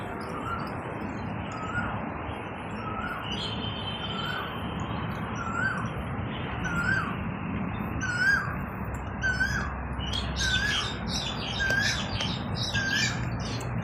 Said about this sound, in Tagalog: Tunog ng mga ibon.